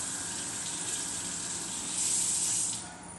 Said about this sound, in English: so now we're going to rinse it off again